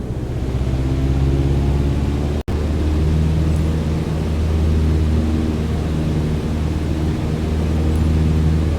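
A small training aircraft's piston engine in Microsoft Flight Simulator, throttled up to 2400 RPM: a steady, loud droning hum with a constant low tone, briefly cut out for an instant, then continuing evenly.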